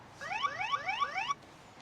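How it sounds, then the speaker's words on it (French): An anti-theft alarm on an ENGWE folding e-bike with a 48 V 15 Ah battery shrieks in a rapid series of rising electronic chirps, loud and close, for about a second before cutting off abruptly. "L'alarme s'active et on a une notification qui dit qu'un mouvement a été détecté."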